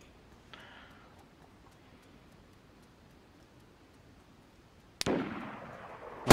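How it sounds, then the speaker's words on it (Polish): Gunfire in the survival video game DayZ: one sharp, loud shot near the five-second mark, followed by a long ringing decay and another abrupt burst at the very end, with quiet ambience beforehand. "Kto to strzela?"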